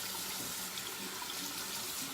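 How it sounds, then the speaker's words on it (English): Tap water runs steadily into a sink while soap is being lathered, a continuous close hiss and splash with no talk. "add a little bit of water."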